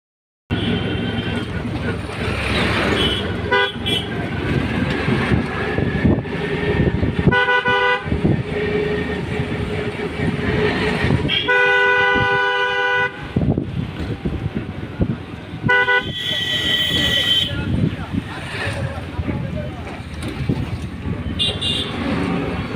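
Busy road traffic on the Bongaon road in West Bengal, with repeated car and vehicle horns honking near and far over a constant engine rumble, a few longer blasts standing out and some talk mixed in.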